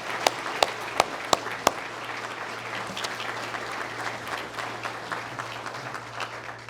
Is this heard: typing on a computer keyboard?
no